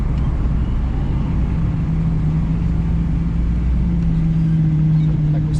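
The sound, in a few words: car engine and exhaust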